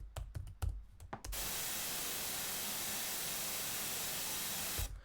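Synthesized white noise generated in SuperCollider, a flat, loud static hiss held steady for several seconds after a few keyboard taps, then cut off abruptly.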